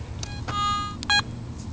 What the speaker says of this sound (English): Four beeps, baby.